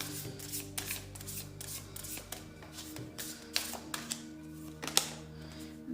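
Tarot cards are shuffled, drawn and handled close up, with soft papery riffles, slides and light taps in an irregular rhythm, fairly quiet and without talking.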